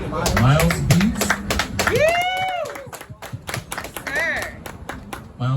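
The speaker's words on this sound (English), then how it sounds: "So please give a round of applause to Cubby Milez Beats." A round of applause for a beat maker at a brunch-and-beats event: scattered, fairly close hand claps from a small crowd, mixed with chatter and a few whoops, with voices talking over much of it.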